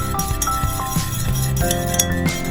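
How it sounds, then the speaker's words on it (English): A utensil stirs an apple-scented massage balm in a glass container, giving a quick run of light, irregular clinks and taps against the glass with no talking. "and then just stir for about a minute or two"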